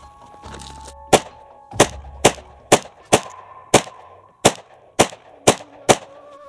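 A Glock pistol fires Winchester White Box 115 grain full metal jacket rounds in ten sharp, loud shots at a slightly uneven pace, each crack ringing off briefly before the next.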